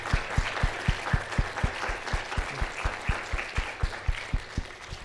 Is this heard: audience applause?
yes